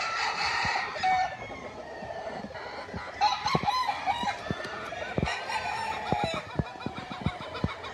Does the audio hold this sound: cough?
no